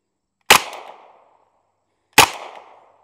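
An M1 Thompson fires two single shots at a target on an outdoor range, each a sharp loud crack with a short decaying echo, spaced well apart with quiet between them.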